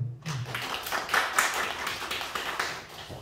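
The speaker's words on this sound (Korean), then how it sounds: "박수 주세요" Applause from a small group, a dense patter of hand claps lasting a few seconds at moderate volume.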